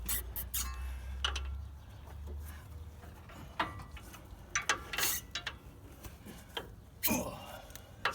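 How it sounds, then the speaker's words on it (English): A bolt is worked back through a Nissan Xterra suspension mount while fitting a leveling kit, producing scattered metallic clicks, scrapes and taps at close range, fairly quiet with pauses between. "So now we're putting this bolt back through here."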